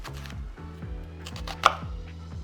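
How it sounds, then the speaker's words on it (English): An onion is chopped with a knife on a board: a quick run of crisp chops, close and distinct, over a low, steady background hum. "First I'm going to chop an onion"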